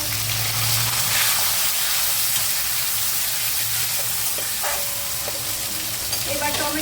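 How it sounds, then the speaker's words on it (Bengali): Tomato is fried in a hot pan after potatoes, giving a loud, continuous close sizzle and hiss with a few faint stirring clinks near the end. "এবার টমেটোটা ভাজা হোক"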